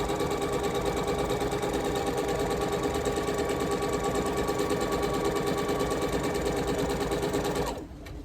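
A sewing machine runs steadily and close, piecing an Irish chain quilt with a fast, even mechanical rhythm that stops abruptly near the end.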